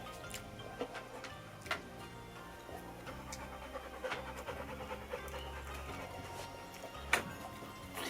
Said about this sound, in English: You can hear Archie panting.